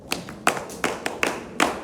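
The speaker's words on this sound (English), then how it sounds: "Let's clap for them." A classroom group claps at a school presentation, about six distinct sharp claps in an uneven rhythm, fairly close and moderately loud.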